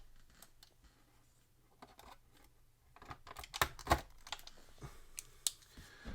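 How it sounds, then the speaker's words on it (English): Tape on action figure packaging is cut in a few quiet snips and crinkles, with a faint scrape or two, in a mostly hushed space. "Lift this tape up. Let's just cut the tape."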